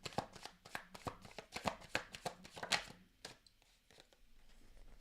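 A rapid series of crisp tarot card riffles and flicks, fairly close, fading into quieter handling and faint rustling toward the end.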